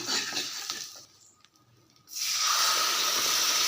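Ground masala paste for paneer butter masala hits hot butter in a pan with a loud, close sizzle. A short hiss fades to near quiet, then a stronger, sustained frying roar takes over.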